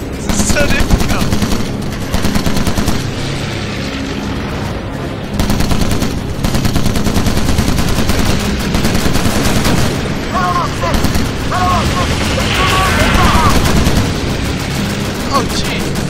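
Rapid tail-gun machine-gun fire in Call of Duty: United Offensive rattles on in long, loud bursts with brief gaps, set among aircraft combat, booms and explosions, with voices heard beneath the shooting.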